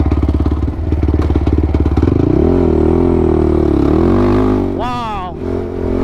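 An XTravel TRX450R custom sport quad roars close by with a rapid, pulsing engine note, revving up and easing off as it rides, with a brief high whine near the end.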